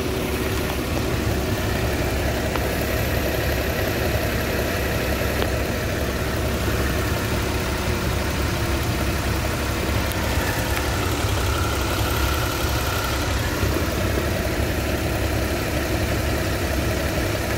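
A 2011 Porsche Cayman engine idles steadily nearby with its engine covers off, a constant low rumbling drone with a fine mechanical ticking, unchanging throughout.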